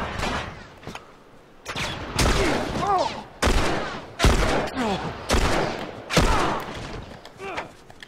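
Gunfire in The Last of Us: several loud, close shots come in uneven bursts, with a voice exclaiming between them.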